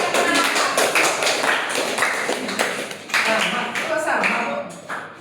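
An audience applauds at an indoor talk on mental health, steady dense clapping from many hands filling the space, loud and continuous with slight swells, a voice briefly audible over it.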